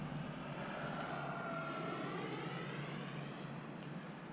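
E-Flite F-15 Eagle RC model jet making a low pass on a cold snowy day, a faint steady whine that rises and sweeps in pitch as it goes by, distant and alone.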